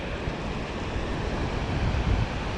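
Ocean waves wash in on a sandy beach, a steady broadband roar of surf that swells near the end, with some wind rumble and no talking.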